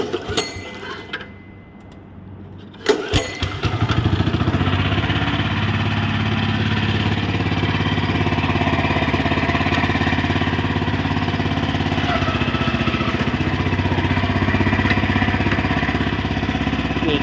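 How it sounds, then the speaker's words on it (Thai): A small 6-horsepower gasoline engine on a V35 rotary tiller starts up after a brief quiet moment and runs steadily at a loud, even idle with a rough mechanical chatter. "เดี๋ยวมาฟังเสียงเครื่องยนต์กันดูครับ"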